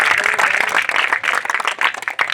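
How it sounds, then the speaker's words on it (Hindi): A crowd at a village film shoot claps and applauds, dense fluttering hand claps that are fairly close and rise and fall over a couple of seconds. "ताली बजा दीजिए।"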